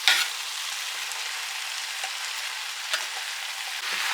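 Tomatoes and peppers tipped into a hot pan sizzle loudly and steadily, with a bright hiss throughout and a few soft clicks of stirring.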